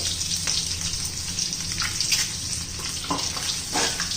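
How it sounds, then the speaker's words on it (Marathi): Eggs with turmeric, red chili powder and salt fry in a pan, a continuous bright sizzle with occasional soft scraping from stirring, close and steady throughout. "अंड्याचा छान असा कलर येईपर्यंत आपण परतून घेणार आहोत अंडी"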